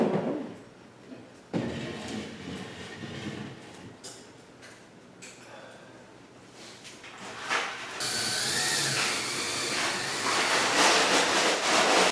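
A power drill bores holes for mounting a shelf in an entertainment nook, heard as short whirring bursts between quiet pauses and ending in a longer, louder, sustained drilling run.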